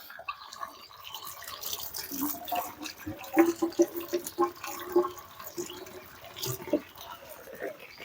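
Jujube berries being rinsed under running tap water, a soft steady trickle and splash with scattered drips and rattles as the fruit is handled close by.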